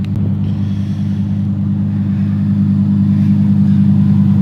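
A 2020 Lamborghini Huracan Evo engine rumbling loudly from inside the cabin, a deep steady low drone with slight rises in revs, continuous and close.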